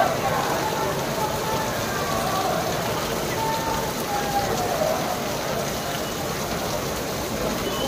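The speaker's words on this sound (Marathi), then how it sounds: "जोरात पाऊस आहे आणि बाप्पा येतात आपले पावसात." Heavy rain pours steadily during a Ganpati arrival procession in Mumbai, a dense, continuous hiss of downpour close around, with faint crowd murmur beneath.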